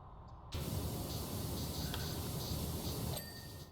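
A pressure washer spraying bathroom cistern pipes in the game PowerWash Simulator, a sudden loud hissing jet that holds steady for about three seconds, then cuts off and tails away.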